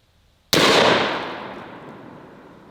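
A single sharp .308 battle rifle shot fired at a target cracks out loudly, then its echo decays slowly into silence.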